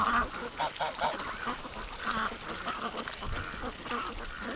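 Ducks quack near a lake in a rapid, uneven series of calls, moderately close but not loud, over a noisy outdoor background.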